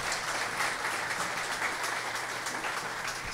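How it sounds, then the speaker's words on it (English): Audience at a cathedral program in Toronto applauding, a soft, even wash of many hands clapping at some distance with no clear talk over it. "Can we give them a round of applause?"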